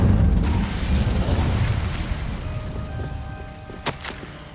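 Incendio fire spell cast in the Hogwarts Legacy video game, a loud whooshing burst of flame at the start that fades into a rumbling tail, followed by a couple of sharp magical crackles near the end.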